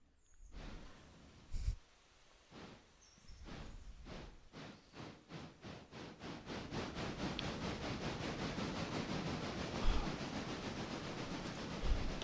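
Trains in the railway game Railroader roll along with a steady, rhythmic clickety-clack of wheels over rail joints. The beats quicken and blend into a continuous rumble as speed builds, close and moderately loud with no talk.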